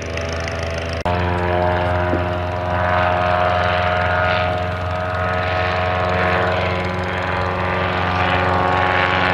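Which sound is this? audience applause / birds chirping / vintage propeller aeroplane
vintage propeller aeroplane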